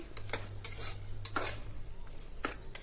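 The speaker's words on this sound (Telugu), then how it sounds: "వేసుకున్న తర్వాత ఒక్క నిమిషం ఇలా కలుపుతూ వేపుకోవాలి" Masala paste is stirred and fried into mutton keema, with repeated quick scrapes of a spoon against the pot over a constant sizzle and a low hum.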